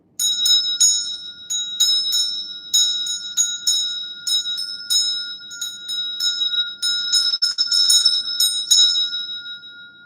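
Bells ring in a ritual of thanksgiving and offering, with rapid bright strikes in irregular bursts and sustained high metallic tones, close and loud throughout, with a faint low hum beneath and no talking.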